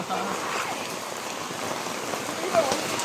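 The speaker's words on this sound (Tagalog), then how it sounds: "Lakas lang ang ulan." Heavy rain falls in a bamboo grove as a soft, steady wash of patter that stays constant throughout, with a faint brief voice near the end.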